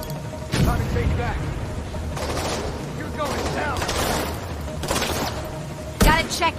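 Gunfire and grenade blasts in The Division 2, with rapid volleys of shots, thudding booms and sharp bursts recurring across the stretch, loud and close, amid game effects.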